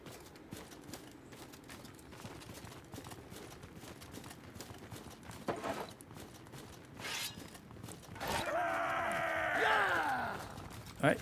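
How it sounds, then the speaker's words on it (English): Horses trot and gallop across a battlefield in Mount & Blade II Bannerlord, a soft rapid hoofbeat patter building closer and louder, followed by a horse's whinny near the end. "Somebody's on horses."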